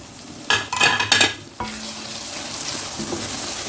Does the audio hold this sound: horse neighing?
no